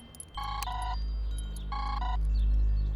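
Electronic telephone ringtone in a Hindi Bollywood crime drama: two clear bursts of beeping tones, each a quick pair of pulses, sounding alone in a quiet room with a low hum beneath.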